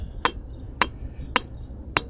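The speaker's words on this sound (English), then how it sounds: "Let's finish hammering this" Four evenly spaced, sharp hammer strikes ring out on a wooden garden bed in a backyard, each one crisp and close against quiet surroundings.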